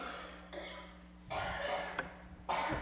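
A few separate coughs in a quiet room, short rough bursts spaced about a second apart over a low steady hum.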